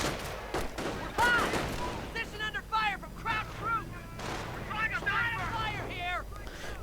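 Gunfire and explosions in a WWII strategy video game arrive as repeated booms and sharp cracks among whistling and whizzing effects, with a voice talking over the battle.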